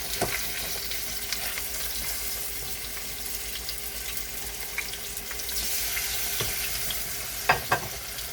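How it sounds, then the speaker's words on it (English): Herb crusted lamb chops sear in olive oil, a constant broad sizzle close by with a few sharp clicks and knocks near the end. "So we're gonna let these sear about 5 minutes on each side"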